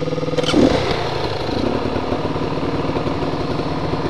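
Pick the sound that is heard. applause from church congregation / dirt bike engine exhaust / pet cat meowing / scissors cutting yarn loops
dirt bike engine exhaust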